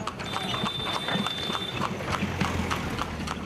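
Horse hooves clip-clopping steadily as a horse-drawn tamtam cart moves along a road in Bihar, a continuous rhythmic trot over steady street noise.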